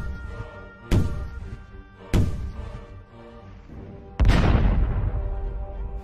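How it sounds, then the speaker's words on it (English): Three deep booming thuds of a pirate cannon firing, the last blast the heaviest with a long rumbling decay, each cracking out over a low sustained background with no voices. "At that moment, the pirates fired their cannon into the sky."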